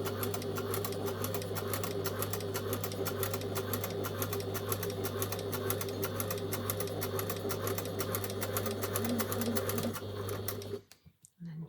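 A sewing machine runs top stitching along a Pilar jacket, a close, steady rapid whirring and clatter for about ten seconds before it abruptly stops.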